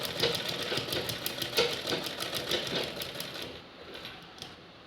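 Sewing machine stitching a fabric cover: a fast, steady mechanical rattle of needle strokes, close and loud, running for several seconds before slowing and stopping.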